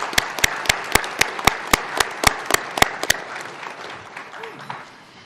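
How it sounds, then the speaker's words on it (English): An audience at a fentanyl summit applauds the frontline panelists with steady, fairly rhythmic clapping that dies away after about three seconds into room murmur. "before you quit applauding"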